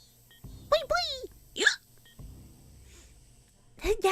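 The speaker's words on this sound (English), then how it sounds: "hiccup." A cartoonish hiccup effect in the video game Higurashi When They Cry, heard as a few short bright upward-sweeping chirps with pauses between them, loud and close over a quiet electronic background.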